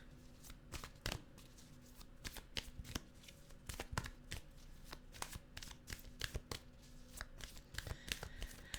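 Tarot cards being shuffled close up in a quiet room, a long run of quick riffling and snapping clicks in irregular bursts, with no talking.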